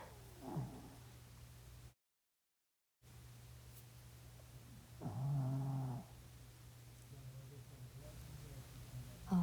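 A small cat asleep on a lap snores softly, with a few faint, breathy snore rounds over a low steady hum; one snore near the middle stands out more clearly.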